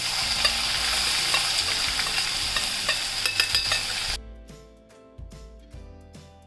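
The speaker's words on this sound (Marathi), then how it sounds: "मी आता कढीपत्ता घालते थोडं हिंग आणि हा लसूण आणि मिरचीचा ठेचा" Curry leaves, asafoetida and crushed garlic-chili paste hit hot oil with a loud, crackling sizzle and sharp pops, then the noise drops abruptly to quieter frying with scattered spits.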